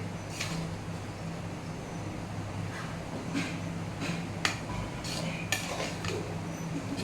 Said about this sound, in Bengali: মানে নেড়ে ঘেটে দিলাম পুরোটাই